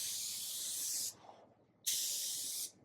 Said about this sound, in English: don't forget to spray the one at the back as well